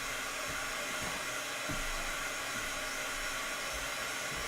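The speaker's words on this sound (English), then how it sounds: "when we're heat embossing it, what we want to do is heat emboss it until it changes and then move." A heat tool blows hot air for heat embossing, a steady loud whooshing hiss that runs continuously without talking.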